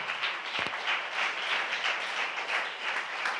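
A church congregation claps hands to glorify God, a thick, sustained roar of many hands striking at once, even and loud throughout with one sharper knock near the start.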